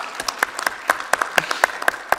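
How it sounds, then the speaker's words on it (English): Applause on the floor of a conference plenary session: a sparse scattering of individual claps at a moderate, uneven rhythm over about two seconds, fairly faint. "So for Serena, big applause, because she really did a tremendous job"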